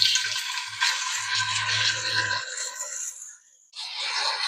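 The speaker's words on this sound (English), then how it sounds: "I'm going to go ahead and throw these in the skillet now." Food frying in a hot skillet for a quick one-pan dinner, a steady broadband sizzle that stays loud and close, with a low rumble under the first half and a brief dip near the end before the sizzle returns.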